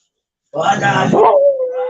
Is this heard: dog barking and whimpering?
yes